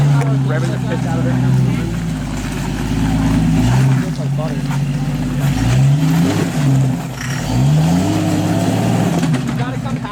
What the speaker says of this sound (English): Revving the pits out of it.